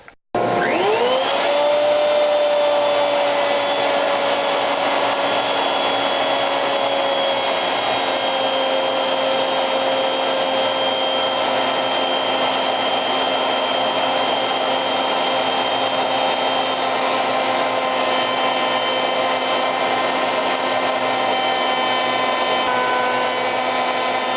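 A power tool steadily removes wood while shaping a picture frame, making a loud, continuous whine that holds a constant pitch through the whole stretch, with no talking.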